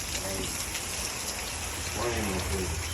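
Steady rain falls outdoors during a storm door installation, a continuous even hiss holding throughout with a voice briefly over it.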